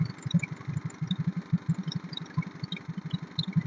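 A Hyundai i10 car engine idles close by with a steady, low, rhythmic pulsing hum that stays even throughout, with no voices.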